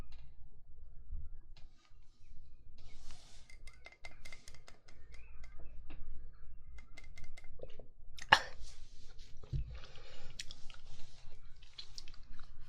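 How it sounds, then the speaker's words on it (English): Close, intimate drinking of water-soaked chia seeds, with soft wet clicks, squishy mouth sounds and a few gulping swallows, quiet and sparse with no talking. "I'm drinking chia seeds that have been soaked in water."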